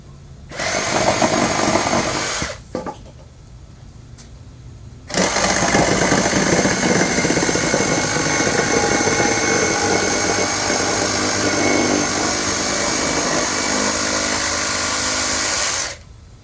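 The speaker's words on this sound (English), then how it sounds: "I've never used a Sawzall before" Sawzall reciprocating saw cutting outdoors in a yard, a loud, close, buzzing rasp that runs for a couple of seconds, stops briefly, then resumes for a long continuous stretch.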